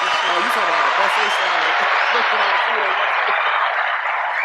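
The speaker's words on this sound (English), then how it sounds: "Round of applause." Steady, dense audience applause sustained evenly throughout, with voices faintly audible underneath the clapping.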